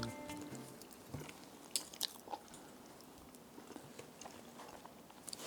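Someone eats homemade no-bake tiramisu close to the microphone, with soft scattered bites and chewing sounds over a hissy background and no talking.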